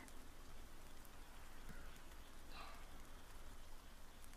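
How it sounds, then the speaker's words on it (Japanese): Steady rain falling and pattering on a surface, a constant even hiss throughout with one brief brighter splash midway, no voices. "まだ雨はやまんけ"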